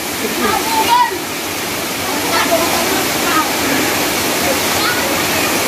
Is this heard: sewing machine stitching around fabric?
no